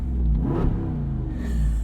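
A 2021 Jeep Wrangler Rubicon 392 V8 with its performance exhaust open gives a short deep rev, a loud throaty rumble that swells and settles within about two seconds, heard close with no talking.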